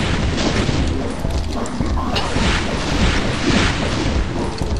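Rocket explosions boom repeatedly in the PC game Doom 2, a loud, dense run of blasts and rumbling gunfire layered over each other with no pause.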